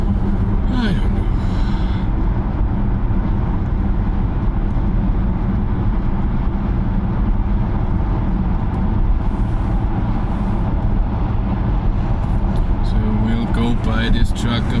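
Jaguar I-Pace electric car on the autobahn, a constant rush of road and wind noise with a vehicle passing by, while people talk over it.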